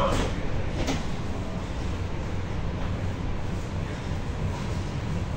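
A suburban electric commuter train near a Moscow station rumbles along with a steady, broad low roar of wheels and carriage noise, with a faint clunk near the start and no clear talk over it.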